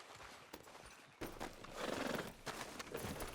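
A horse in the Red Dead Redemption 2 video game whinnies and its hooves clip-clop steadily, close and fairly quiet, with no voices over it.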